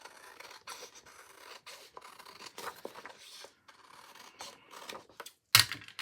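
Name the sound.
scissors cutting and trimming paper for a planner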